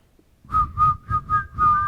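A person whistles an imitation of the Yankee Stadium strikeout whistle, a short series of about five quick, close, high-pitched chirps in a bouncing rhythm.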